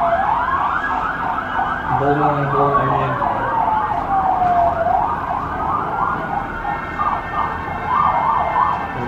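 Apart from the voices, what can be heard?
ambulance and fire truck sirens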